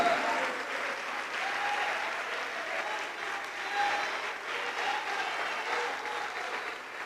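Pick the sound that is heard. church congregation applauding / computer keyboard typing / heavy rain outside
church congregation applauding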